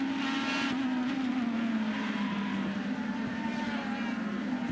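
IndyCar race cars in the 2010 Honda Indy Edmonton at the City Centre Airport circuit drone past steadily, a continuous loud engine whine holding a near-even pitch throughout.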